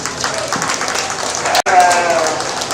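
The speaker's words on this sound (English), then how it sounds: "Let's give her a round of applause." Loud, sustained crowd applause at a county fair sheep showmanship and market lamb show, broken by one abrupt momentary dropout, with voices murmuring under the clapping.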